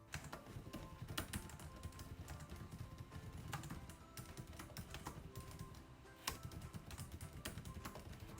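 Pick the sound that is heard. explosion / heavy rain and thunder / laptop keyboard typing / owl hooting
laptop keyboard typing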